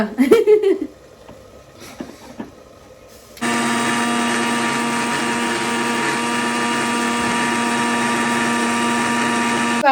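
A kitchen mixer grinder blends roasted spices and fennel seeds for a chicken dish, starting abruptly after a few soft kitchen knocks and then whirring loud and steady at close range for the rest of the clip.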